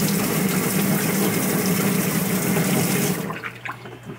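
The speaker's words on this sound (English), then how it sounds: "I'm going to run hot water in it and slowly dump this in with the hot water" Hot water runs hard into a container while pinball machine legs are being cleaned of rust, a loud, steady gushing rush that cuts off suddenly near the end and leaves faint drips and clatter.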